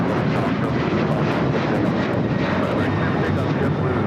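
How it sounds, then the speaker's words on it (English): A United Airlines Boeing 737-900ER takes off from LAX with a loud, sustained engine roar, while voices talk briefly over it. "This is United Airlines 1278 taking off to Cancun on the 737-900ER"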